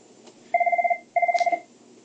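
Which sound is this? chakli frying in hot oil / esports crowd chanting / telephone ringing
telephone ringing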